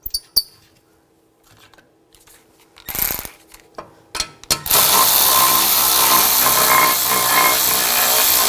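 Brake caliper bracket bolts on a 2007-2013 BMW X5 are run in with a ratchet: a few sparse clicks and taps give way to a loud, steady mechanical rattle that continues to the end, with no one talking.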